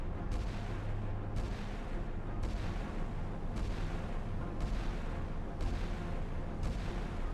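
Naval gunfire in the Sea Power warship game rumbles continuously as a loud, dense barrage, with heavy low booms rolling one into the next and regular bursts every second or so over a constant roar.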